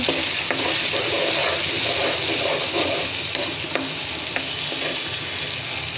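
A blended paste of ginger, garlic and onion fries in a pan after chicken pieces are lifted out, a steady loud sizzle broken by scraping stirs and occasional pops, no talk.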